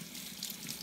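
Running water from a tap pours steadily over a recorder's beak and windway, a brief continuous splashing rush.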